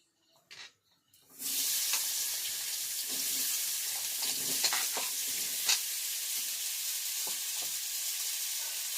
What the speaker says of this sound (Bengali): কড়াইতে তেল দিয়ে দেবো, দিয়ে আলুগুলো ভেজে নেব।